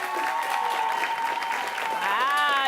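A large crowd applauds at a school quiz show in a steady wash of clapping and cheering, while a voice talks over it.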